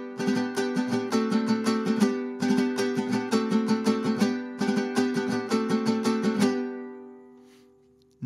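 Mariachi vihuela, a small round-backed guitar, strummed as a rhythm instrument in three bursts of quick, bright, rhythmic chords; it plays alone, then the final chord rings and fades out.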